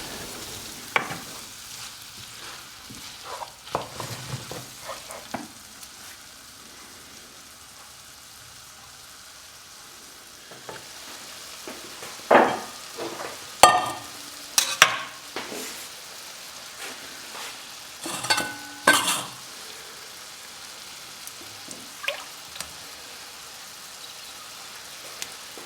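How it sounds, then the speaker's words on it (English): A bobotie mixture is stirred in a pan, making quiet, intermittent scraping and clattering strokes that cluster in short bursts over a faint background hiss, with no talking. "Mix a little bit more."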